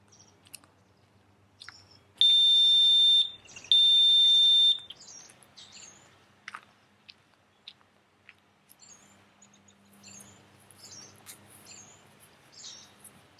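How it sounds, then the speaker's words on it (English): Two loud, shrill electronic beeps from a Chamberlain CWA2000 wireless motion alert alarm triggered on a driveway, each lasting about a second, close together, followed by quiet outdoor background with faint chirps and clicks. "as you see me walk down my driveway, the alarm's going to go off"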